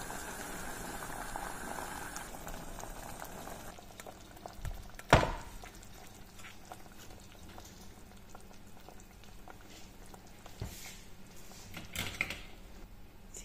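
Lemon peel rolls simmer in a pot of liquid, a steady soft bubbling that stays fairly faint, with one brief louder knock partway through and no talking.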